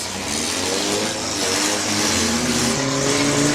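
A derby race car at a firemen's festival in Greenwich, 2012, runs with a loud, continuous, rough engine drone and an odd droning whine, steady and close with no talk over it.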